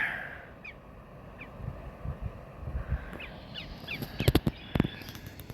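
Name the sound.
red-winged blackbird calling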